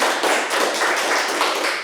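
A podcast audience claps hands in a steady, dense patter of many hands, loud and continuous throughout the short burst with no talking over it.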